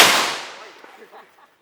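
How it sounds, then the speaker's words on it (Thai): A single loud firecracker bang goes off at a Hmong New Year ceremony, with a sharp burst up close that fades over a long echoing tail while faint voices and small sounds follow. "คือเสียง ประทัดนะครับคุณผู้ชม"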